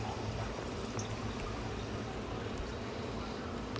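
A continuous low gurgling rush of six glasses of water poured into a pot, steady and fairly soft throughout.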